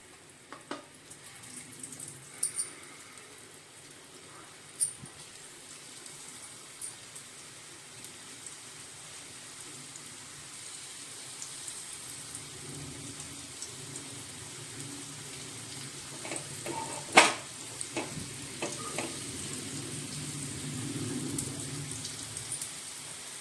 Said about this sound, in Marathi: तर आता आपण बारीक गॅसवरतीच मच्छी भाजून घेणार आहे